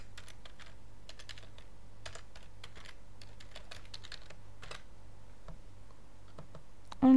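Someone types a password on a computer keyboard, a quick irregular run of light close key clicks over a faint steady hum, with a louder click at the end and no talking.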